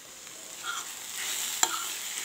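Food sizzles steadily in a frying pan while a utensil stirs it, with a sharp clink of metal near the end.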